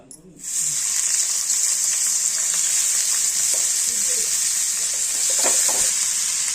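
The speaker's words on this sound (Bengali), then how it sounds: "তেলটা গরম হয়ে গেছে আমরা একে একে করে সব সবজিগুলো দিয়ে দেবো" Vegetables for veg fried rice hit hot oil and fry with a loud, steady sizzle that starts abruptly and continues without a break, close to the pan.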